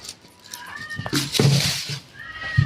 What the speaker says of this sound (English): Yeah, there's like 10 cats out there. I just feed them.